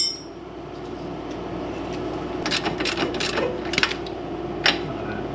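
A bolt being spun off the lower control arm of a 2013 Mazda CX-5, a whirring mechanical hum with a few sharp clicks and rattles in the middle, close up and with no one talking.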